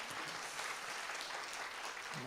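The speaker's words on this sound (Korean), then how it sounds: "우리 최고의 영광의 박수 한번 돌리겠습니다" Church congregation applause at a university committee retreat gathering, a steady, fairly faint wash of clapping spread across the room, continuing without pause.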